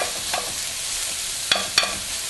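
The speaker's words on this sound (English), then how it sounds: "that's going to cook a few minutes until the onion starts to get soft and translucent" Onion and prosciutto sautéing in a pan for an Italian mushroom pasta bake. A soft, even sizzle runs under two sharp scraping stirs of a utensil near the end.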